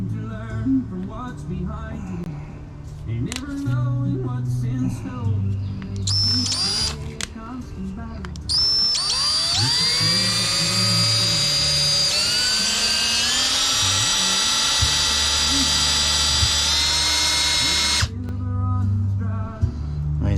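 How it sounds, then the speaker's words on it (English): An electric drill with a 3/16-inch bit spins up and whines steadily at high pitch for several seconds drilling aluminum, with clattering and handling noises before and after. "We're going to take a 3/16 bit and drill right in between them"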